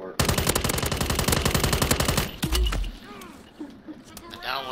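Machine gun fire in the Warzone video game, a long rapid rattle of close shots that stops abruptly, followed by faint game sounds while a voice speaks briefly.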